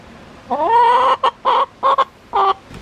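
A broody hen clucks from inside a nest box, a close, loud run of harmonic clucks and short grumbling calls in several bursts, with no talking over it.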